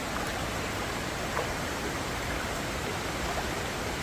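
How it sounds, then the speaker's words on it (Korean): Heavy rain pours steadily onto a flooded greenhouse, a dense, constant hiss of falling water with no break and no talk. "오늘 아침 7시부터 비가 오기 시작해가지고 지금 이렇게 되고 있어요."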